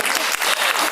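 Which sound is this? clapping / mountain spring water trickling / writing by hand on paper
clapping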